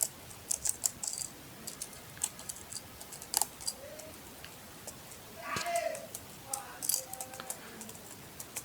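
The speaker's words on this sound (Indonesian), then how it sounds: "Nah, isi arraynya ini kita ketikkan." Typing on a computer keyboard, a few scattered bursts of quick, light key clicks at close range with pauses between them, set against a faint background hiss.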